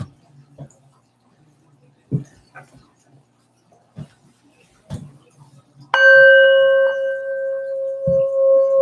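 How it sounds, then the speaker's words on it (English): After a few soft taps and rustles, a hand-rung bell strikes once with a bright, clear ding whose ringing tone sustains and slowly fades for several seconds, close and loud. "I'll do the bell."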